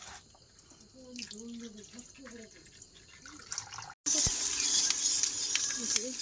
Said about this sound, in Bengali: আর মাংসটা জল দিয়ে ধোবো ভালো করে